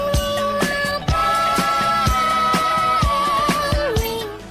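A disco hit plays loud and clear, a punchy, regular drum beat under sustained melodic tones and sliding notes, fading slightly at the end.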